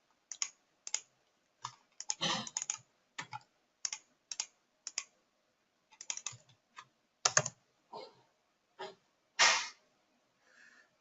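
Keys clatter on a computer keyboard in short, irregular bursts of clicks with brief pauses between them, close and fairly quiet, with no voices.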